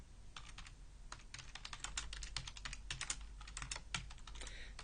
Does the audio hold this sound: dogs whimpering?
no